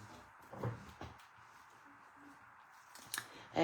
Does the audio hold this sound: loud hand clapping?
no